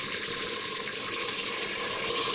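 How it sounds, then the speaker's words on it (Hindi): A steady stream of water pours into a pan of mutton with spices, a continuous gushing splash holding an even level throughout with no talk. "मसाले डालने से पहले थोड़ा सा 2-3 टेबल स्पून पानी डाल रही हूँ ताकि मसाले जले नहीं"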